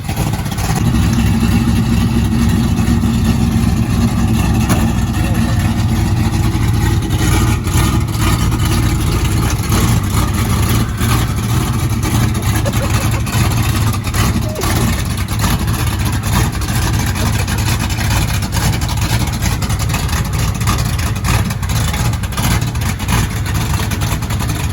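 A 1977 Ford F150's engine runs loud and rough with a heavy low rumble and uneven revving throughout, steady and close, with no clear talk.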